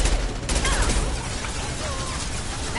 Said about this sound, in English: I just have to shoot it forever and ever.